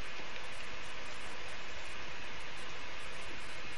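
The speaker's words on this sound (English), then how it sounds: "It's raining." Steady rain hissing down in The Last of Us game, a dense, even wash of noise filling the whole stretch at moderate level, with no voices over it.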